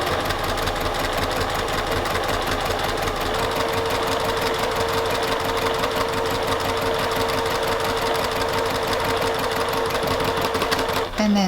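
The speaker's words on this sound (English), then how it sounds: "And then I'll stitch down the right hand side of that piece without breaking the thread." A sewing machine runs steadily, stitching quilt pieces with a 1/4 inch presser foot in a fast, continuous mechanical whir that stops just at the end.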